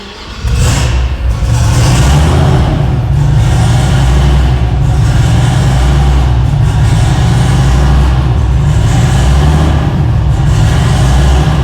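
Loud turbocharged 2010 Chevrolet Corvette engine starting up, catching abruptly and then holding a deep, heavy idle close by, with repeated revving swells over a rumbling low drone.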